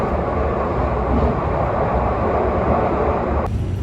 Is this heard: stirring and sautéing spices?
no